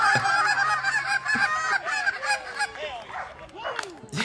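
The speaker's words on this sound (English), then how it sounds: "Do you really need a 30-second intermission to call all of the local ducks for your wedding?" Duck calls blown by a wedding crowd give a loud, dense chorus of honking, quacking blasts that overlap continuously from many people at once.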